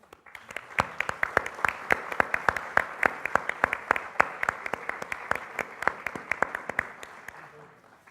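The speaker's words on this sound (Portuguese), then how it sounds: "a quem peço uma salva de palmas" An audience applauds actress Emília Silvestre at a Porto literary event, with sustained, fairly even clapping of a modest crowd and distinct individual claps standing out, continuing steadily for several seconds at moderate distance.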